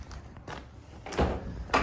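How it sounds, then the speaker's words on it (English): Passenger side door of a 2018 Nissan NV400 SE 2.3 dCi van opening, with a soft latch click followed by two louder thuds of the door moving, close and fairly quiet. "Opening up the door,"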